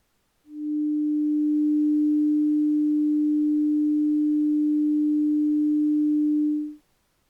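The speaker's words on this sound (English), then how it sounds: "Listen to what happens when I hold one steady note." A single pure tone near 250 Hz is held perfectly steady for about six seconds, loud and unwavering, with clean onset and release and near silence on either side.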